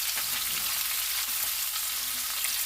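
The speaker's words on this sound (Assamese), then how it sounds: "পিঁয়াজখিনি এতিয়া ৰঙচুৱা হোৱালৈকে ভাজি থাকিম।" Sliced onions frying in hot oil with panch phoron, a steady close sizzle with faint crackles and occasional stirring, no voices.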